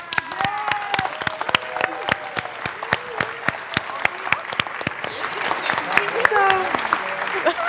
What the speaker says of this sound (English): Can we just get a round of applause for Miss Euphrates?